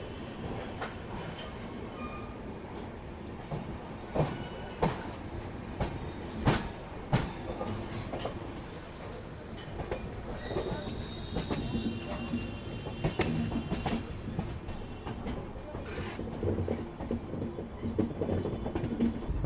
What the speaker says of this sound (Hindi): यहाँ पे ट्रेन अपनी राम गंगा नदी को क्रॉस कर रही है